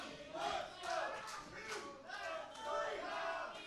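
A wrestling arena crowd roars and cheers in broad, sustained swells during a match, loud and continuous throughout, with a commentator's voice faintly mixed in.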